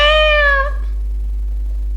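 A stray cat in Skyrim gives a single clear, drawn-out meow that fades after under a second, close and alone over a low steady hum.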